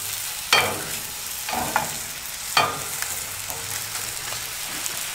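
Pork knuckles sizzle steadily on a hot grill, with a few sharp scraping bursts as they are quickly turned, no talk.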